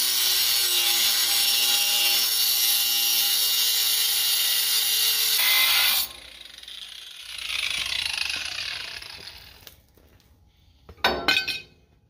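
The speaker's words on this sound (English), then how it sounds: "grinder cut wheel is pretty dull" Angle grinder with a dull cut wheel cutting metal during repairs to a rusted-out vehicle frame: a loud, steady high grinding whine for several seconds, then it winds down, followed by shorter grinding bursts and scraping.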